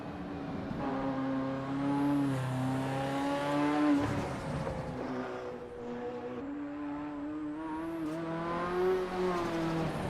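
A racing car's engine in the sim game Assetto Corsa EVO revs and pulls through gears, its harmonic drone rising and falling with shifts, loud and steady throughout without talk.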